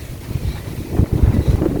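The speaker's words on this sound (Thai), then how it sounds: "ลมแรงมากทุกคน" Strong gusty wind buffets the microphone at Ban Krut beach before rain, a continuous low roar that swells in uneven gusts, with no talking.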